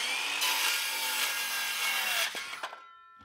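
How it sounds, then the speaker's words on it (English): A hand saw cuts straight across a wooden board in a steady, rasping run of close strokes for about two seconds, then a few final scrapes before the cut ends. "I'm going to cut this directly across."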